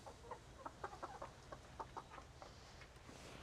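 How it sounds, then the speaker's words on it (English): Chickens cluck in quick, irregular bursts, several birds chattering at once at moderate distance over a faint steady background hum, with no talking. "these are chickens."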